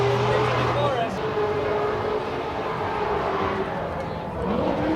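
Nissan Skyline V-Spec R34 in yellow at a car show in Englishtown, New Jersey, giving off a steady engine drone with a tonal whine amid loud crowd and background noise, with people talking nearby.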